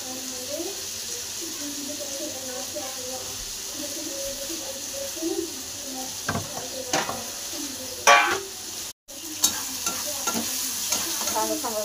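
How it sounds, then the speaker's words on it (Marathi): Onion fries in a pan until browned, a constant sizzle under a few light stirring taps and scrapes, with a brief louder knock and a momentary cut-out partway through; faint voices murmur in the background. "कांदा चांगला फ्राय करून घेते लाल होईपर्यंत"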